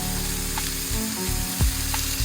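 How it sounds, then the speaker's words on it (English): Turkey chops frying in a pan, a loud continuous sizzle with low hum underneath and a few clunks and shifts of the pan, close up and without speech. "You see the turkey chops cooking"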